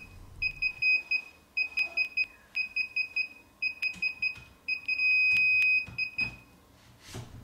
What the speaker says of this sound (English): You will want to leave it beeping like this until the LED goes to green.